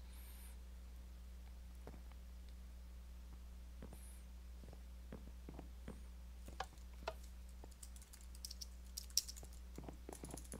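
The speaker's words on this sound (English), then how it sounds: "think he's typing some more, guys" Soft computer keyboard typing during a Minecraft session, with irregular faint clicks and keystrokes that grow busier toward the end over a low steady hum, no talking.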